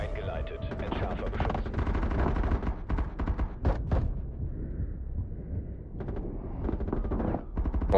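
Gunfire in the tactical shooter Rainbow Six Siege, with loud, dense bursts of automatic fire and heavy impacts that run almost continuously and then ease into sparser shots.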